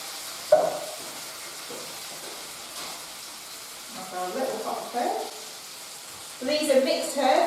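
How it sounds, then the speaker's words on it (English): Tinned tomatoes and herbs sizzle and crackle in a hot frying pan as they are stirred, the frying growing louder in bursts toward the end. "I'm going to add the tin tomatoes, and I'm going to add our herbs to the frying pan"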